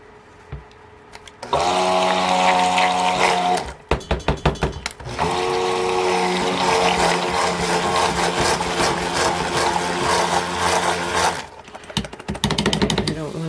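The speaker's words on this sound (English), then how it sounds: "I have my stick blender on low." A stick blender on low whirs steadily at close range, with brief stops and restarts and a few clattering knocks as it works through thick soap batter.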